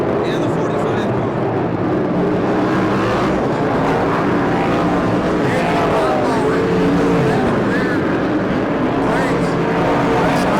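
USAC Western States midget race cars battling side by side, a continuous loud roar of several engines with rising and falling pitch, heard from a trackside distance under an announcer's excited commentary.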